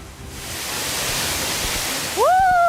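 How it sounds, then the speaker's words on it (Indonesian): The top tier of a waterfall on Wawonii Island, Southeast Sulawesi, a loud steady rushing roar of falling water heard up close, with a brief high whistling tone rising over it near the end. "Ini dia air terjun tingkat paling atas di mana akan ada canyoning"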